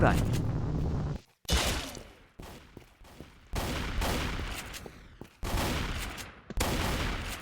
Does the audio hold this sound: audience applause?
no